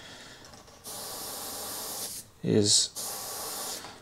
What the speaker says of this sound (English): just gonna spray along that edge, and it'll make it appear as though that grunge